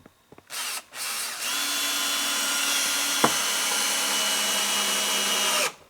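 Power drill driving 2.5-inch screws into a wooden board on a shelter frame: two short trigger bursts, then a long steady whine under load with a sharp click midway, close and loud.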